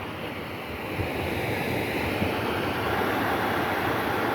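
Water pours through Dantiwada dam in Gujarat, where the gates are fully open, in a continuous, loud, even roar with no pauses.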